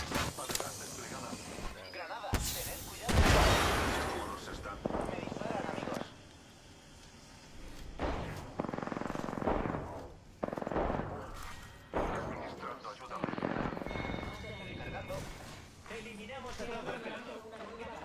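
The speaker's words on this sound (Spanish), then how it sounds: "Están disparando." Gunfire from the battle royale shooter Apex Legends, a Wingman revolver or Peacekeeper shotgun, crackles in scattered bursts and sharp reports, one loud blast standing out, mixed with game voice lines and talk throughout.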